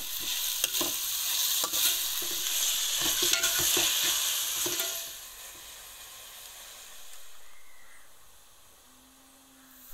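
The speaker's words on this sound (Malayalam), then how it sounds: "അതിലേക്ക് ആവശ്യത്തിനുള്ള ഉപ്പും ചേർത്ത് നന്നായിട്ടൊന്ന് വഴറ്റിയെടുക്കാം." Sliced onions sauté with salt in sunflower oil and ghee for a Lucknowi biryani, a steady frying sizzle broken by scraping stir strokes, then fading to a quieter hiss in the last seconds.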